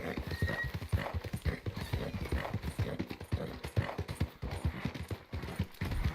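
Horse hooves in Red Dead Redemption 2, clip-clopping steadily in a quick, even rhythm while riding into town, close and continuous, with a brief whinny and faint background sounds.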